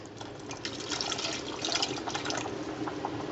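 Water pours and splashes steadily as cooked pasta is drained for homemade macaroni and cheese, a continuous close wash of liquid running into a sink for several seconds.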